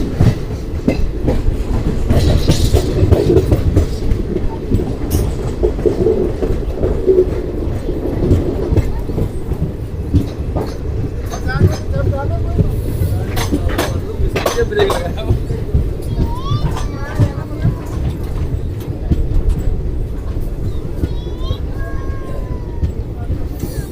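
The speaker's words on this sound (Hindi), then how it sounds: "तो 10:30 पर हमारी ट्रेन का जो अराइवल है वो राजगढ़ पर हो चुका है।" The Ranikhet Express pulls into Rajgarh station with a steady rumble and clatter of wheels, loud and continuous, while people talk nearby and children's voices come through.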